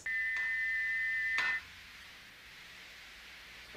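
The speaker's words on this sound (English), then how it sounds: "When a steam whistle breaks, it sounds like this." A broken steam whistle sounds a thin, steady high tone for about a second and a half, then cuts off, leaving faint background hiss.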